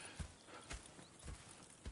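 Horses clip-clop in the video game Red Dead Redemption 2. Four evenly spaced hoof thuds fall over two seconds, faint and soft, against a quiet background.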